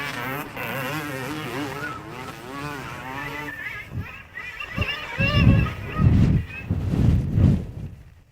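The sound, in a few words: motocross bike engine accelerating into a turn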